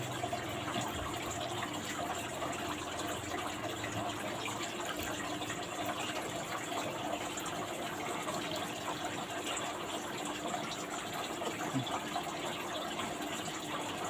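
Water poured slowly over crabs sitting in a tub, a steady, even gush and trickle running without pause at moderate level, with no voices.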